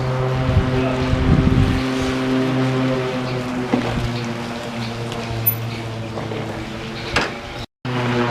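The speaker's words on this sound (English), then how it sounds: "My neighbor's mowing his grass already." A neighbor's lawn mower runs steadily nearby while grass is cut, a constant droning engine hum with layered harmonic tones and brief clatters, heard alone without talking.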